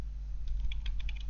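Quick, light keystrokes on a computer keyboard tap out a command in a brief, irregular burst of soft clicks over a low background hum.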